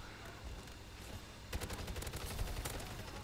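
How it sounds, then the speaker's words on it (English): A slow-firing gun shoots in MW3 Zombies, with a quiet lead-in before a run of spaced, punchy shots begins partway through, fairly faint in the mix. "Yo, this weapon fire is so slow, but the damage, oh my god, this weapon does a lot of damage too"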